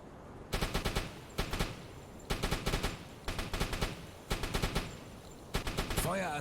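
A U-boat deck gun fires in the UBOAT naval video game, with repeated bursts of booming rounds in rapid groups separated by short pauses, loud and close throughout.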